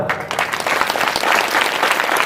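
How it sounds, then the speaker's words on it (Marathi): An audience at a public talk breaks into dense, sustained clapping that swells after a brief start and stays loud and continuous to the end. "यानंतरच्या जोरदार टाळ्या"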